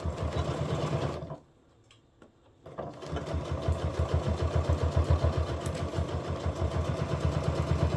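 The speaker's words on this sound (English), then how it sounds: "we're just gonna sew all the way around that opening" A sewing machine stitches around the opening of a coral beach bag, running steadily with a fast, even mechanical rhythm after a short pause, close and fairly loud.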